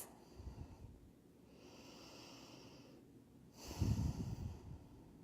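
Slow, deep breathing during a yoga stretch for sciatica relief, two soft airy exhales a few seconds apart, close and quiet with no talking.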